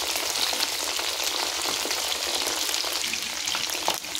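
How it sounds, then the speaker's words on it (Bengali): Chicken pakoras deep fry in hot oil, turned with tongs until both sides brown. A loud, close, continuous bubbling sizzle fills the whole clip, with faint stirring movements and no speech. "আমি ডিপ ফ্রাই করে এগুলোকে ভেজে নেব।"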